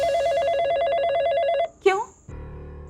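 A telephone bell rings in a rapid warbling trill that runs for over a second and a half, then stops, followed by a short voice and quiet room tone.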